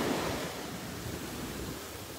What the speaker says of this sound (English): I have my feet in the water, in the ocean, Pacific Ocean.